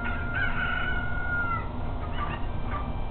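Chickens from the video game Zelda: Ocarina of Time squawk and cluck in a run of tonal calls over a dense, steady game background, loud and close with no talking.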